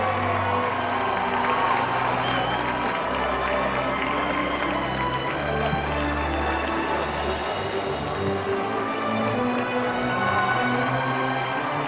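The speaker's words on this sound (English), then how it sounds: "outside the crowd is clamoring for me" Outdoor crowd noise with cheering and applause rolls on continuously, a broad roar of many voices and clapping, joined by a steady low drone underneath.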